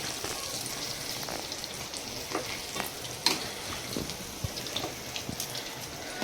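Ivy gourd pickle is stirred in oil in a basin, with a steady wet, sloshing churn and occasional sharp scrapes and taps of the spoon against the vessel, close by and without talk.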